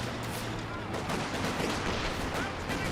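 Rifle volley fired into a slit trench during a Company of Heroes 2 battle with Panzer Fusiliers, a dense stream of overlapping shots and crackle over a constant low battle rumble, heard beneath a commentator's voice.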